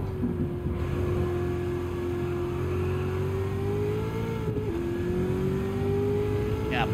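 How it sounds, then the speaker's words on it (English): A car engine in Gran Turismo 7 drones steadily at high revs under manual driving, with a brief dip in pitch suggesting a gearshift midway, loud and continuous throughout. "Bog the engine down by upshifting."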